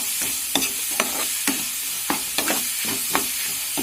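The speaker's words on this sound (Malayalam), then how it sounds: "എന്നിട്ട് നല്ലവണ്ണം ഇളക്കുക." A spoon stirs Kottayam-style pepper chicken masala frying in a pan, with regular scraping strokes about twice a second over a steady close sizzle and no talking.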